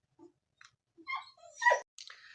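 A dog wanting to go outside gives a few short, soft whimpers and whines, spaced out and close by, alone in an otherwise quiet room.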